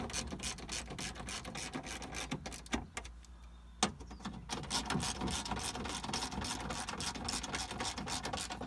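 Ratchet snugging the bolts on a 2012 Chevy Cruze window regulator inside the door, a busy stream of quick metallic clicks and mechanical rattles with a couple of sharper knocks, close and fairly steady throughout.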